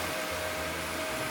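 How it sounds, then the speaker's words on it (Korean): A Roborock F25 Ultra wet-dry cordless vacuum sucks up heavy cat tofu litter, giving a steady, close, loud whooshing drone with a faint rattle of debris underneath. "이렇게 무게감이 있는 고양이 두부 모래 정도는 손쉽게 흡입해주는 걸 보면"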